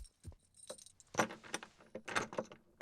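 Keys jangle and scrape in a lock as a prison door is unlocked, a run of soft metallic clinks and rattles, close and fairly quiet with no talking.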